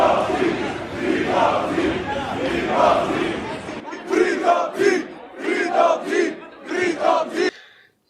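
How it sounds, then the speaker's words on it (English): A crowd of people screaming and chanting in the street, a dense roar of many voices followed by rhythmic shouted bursts in a steady cadence, loud and close before cutting off. "he was able to get a crowd of people to walk down the street screaming that he needs to be freed"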